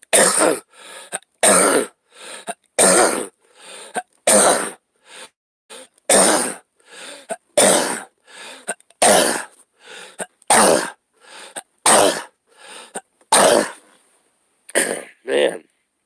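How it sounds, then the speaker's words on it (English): A man coughs and clears his throat over and over: harsh, close, loud bursts in a steady series across about fifteen seconds, some wet and hacking, with brief gaps between them. "Cough."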